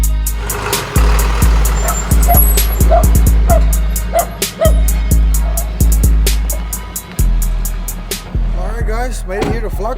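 Dogs bark on a rural country property, a rapid run of loud, close yaps and barks over a steady vehicle rumble and clattering knocks.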